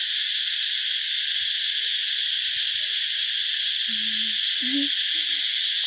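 Cicadas in the countryside near a village in Laos fill the air with a loud, unbroken, buzzing chorus, while a few faint low animal calls sound briefly near the end.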